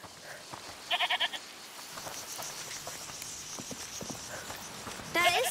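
A goat in the video game A Plague Tale: Requiem gives a short wavering bleat early on and another near the end, amid soft footsteps and ambient game sounds, with a voice speaking over it.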